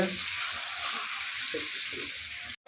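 Meat sizzling as it is sautéed in a pan for kosha, a steady bright frying hiss throughout with faint stirring, ending in a short clatter.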